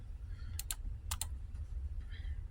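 Two quick bursts of computer-keyboard typing, a few crisp keystrokes each, close and fairly clear over a low steady room hum, with a faint further tap near the end.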